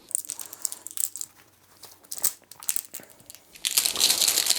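Warp's Edge board game tokens, including a special starfighter token, drop into a cloth bag and get shuffled, making close crinkly rustling and crunching bursts that swell into a dense shaking rattle near the end, with no talk.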